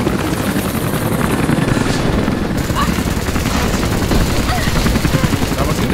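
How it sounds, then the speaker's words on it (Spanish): A helicopter whirs loudly and continuously while rapid gunfire crackles in bursts throughout, the dense combat din of a Rise of the Tomb Raider fight scene. "¡Quiero destruir ese puto helicóptero!"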